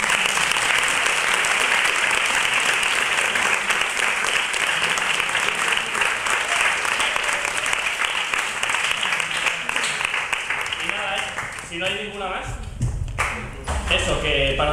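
An audience at a secondary-school theatre group's performance of Ionesco's La Cantante Calva applauds loudly and steadily, a dense wash of clapping that tapers off near the end as voices emerge.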